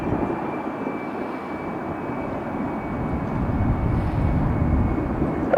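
A jet airliner departing runway 28 Left at San Francisco on a windy afternoon, heard as a broad, steady engine roar from a distance that swells slightly louder toward the end, with no talking.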